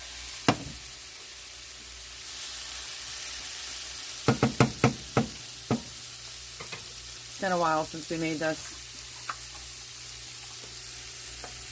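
Portobello mushrooms sizzle while browning in a pan, a steady close frying hiss throughout. Several sharp utensil knocks and stirring scrapes cut through, and a person speaks briefly over it.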